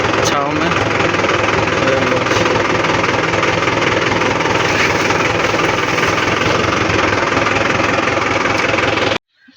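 A tractor engine runs loud and close while the tractor is being parked, with a steady chugging, knocking drone that continues for several seconds before cutting off abruptly near the end.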